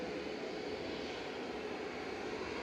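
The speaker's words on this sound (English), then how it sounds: "Next in is Finnair, coming in from Helsinki." A Finnair airliner arriving at Manchester Airport from Helsinki gives a faint, distant, even engine rumble that stays steady throughout the short stretch, with no voices.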